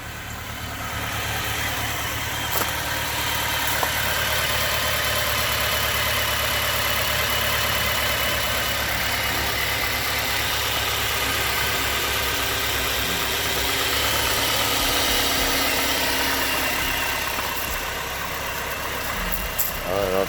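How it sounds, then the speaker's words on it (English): A Saturn car engine idles roughly with a cylinder misfiring, a continuous uneven rumble with a faint irregular sputter, steady and close throughout the whole stretch. "Hear it sputtering? Listen. Like one of the cylinders ain't firing."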